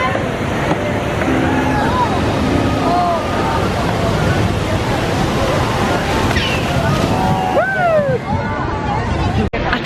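A theme park water ride near the Jurassic Park area sends up a steady, loud rush of splashing water, with birds chirping and people talking in the background.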